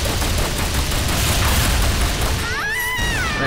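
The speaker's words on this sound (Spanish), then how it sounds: "Vamos a darle a tiros a Nadia mientras activamos su bola de fuego." Continuous dense gunfire in Tomb Raider Anniversary during the final Lost Island battle, a loud rapid barrage filling the whole stretch, with a rising whooshing effect near the end.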